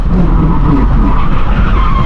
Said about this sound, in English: you could hear the tires rubbing when the wheel is turned all the way